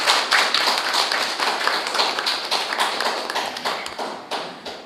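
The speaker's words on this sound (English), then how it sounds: "Let's give them a round of applause." Audience applause fills a debate hall after teams from a national fisheries authority and a universal service fund are introduced, a dense steady clapping that holds for about five seconds without speech.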